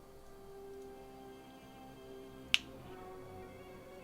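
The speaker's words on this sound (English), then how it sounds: "I'm going to snap my fingers if I did this correctly" A single sharp finger snap, crisp and close, standing alone against a quiet hum of background noise.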